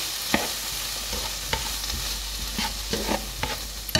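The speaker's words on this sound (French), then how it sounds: "je vais rajouter mes légumes. Voilà, et là je vais faire revenir tout ceci pendant 10 minutes." Vegetables and chicken sauté in a hot pan for a chicken, potato and carrot dish, a steady sizzle broken by occasional scraping stirs, close up and with no voices.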